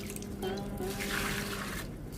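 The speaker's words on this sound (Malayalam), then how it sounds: "ചെടികൾക്ക് വെള്ളം ഒഴിക്കാം" Water splashing and running steadily onto garden plants, a moderate continuous flow with a steady faint hum beneath it that tapers off near the end, with no talk.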